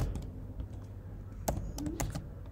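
Keyboard typing while entering code for a Django project: quick, uneven clusters of clicky keystrokes with a few sharper louder taps, close and alone with no voices.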